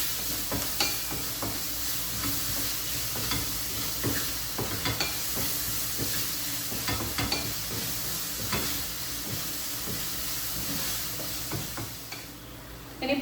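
Egg rice ingredients sauté and sizzle in a pan, with steady frying hiss and repeated scraping stirs throughout, close and fairly loud, with no talking.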